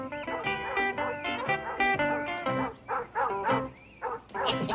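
An old hound dog barks and bays repeatedly in a steady, close run of loud, resonant woofs with short pauses between them, alone without talk.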